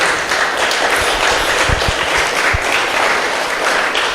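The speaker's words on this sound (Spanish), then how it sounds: "Denle un aplauso al Señor, por favor." A church congregation applauds with a dense, sustained wash of clapping, broken by a few louder thumps, and keeps going at a fairly even level throughout.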